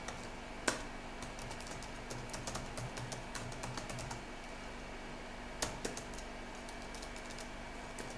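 A computer keyboard clatters with quiet, uneven keystrokes as a Linux terminal command is typed, with a couple of sharper key presses standing out, alone in a quiet room.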